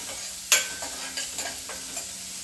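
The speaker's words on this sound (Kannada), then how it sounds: "ಈರುಳ್ಳಿ ಹಾಕ್ಬಿಟ್ಟು ಒಂದು ನಿಮಿಷ ಚೆನ್ನಾಗಿ ಎಣ್ಣೆಯಲ್ಲಿ ಫ್ರೈ ಮಾಡ್ಕೊಳ್ಳಿ" Onions frying in hot oil while being stirred for a vegetable oats dish, with a sharp sizzling burst as they hit the pan, followed by steady crackling and a few scraping stirs, fairly close and with no talking.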